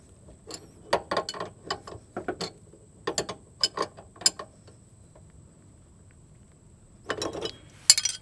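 A hand ratchet snugs down a bolt during a fuel pump replacement on a GM 2.2L Ecotec car. It gives off bursts of sharp, close clicking in several runs separated by pauses.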